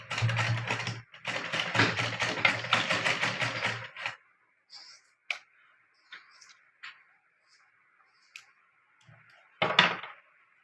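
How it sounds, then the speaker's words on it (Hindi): A sewing machine runs in two fast bursts of rapid stitching while sewing a side chain onto a blouse, then stops, followed by scattered light clicks and handling taps and one short final burst. "पक्की सिलाई लगा देनी है।"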